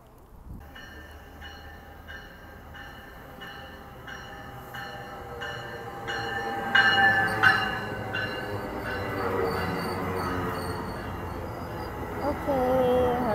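A train rolls into Vaudreuil station with rhythmic clacking of wheels over rail joints, a rising rumble and brief metallic squeals, growing louder as it approaches.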